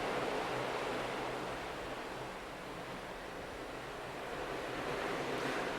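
Flat calm Atlantic Ocean in late September, heard as a steady, broad wash of surf and wind noise from a cruise ship deck, continuous and fairly loud with no talking.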